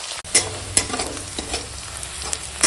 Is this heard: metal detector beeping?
no